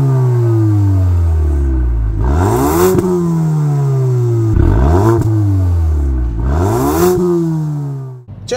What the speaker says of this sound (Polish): same wydechy są naprawdę kapitalne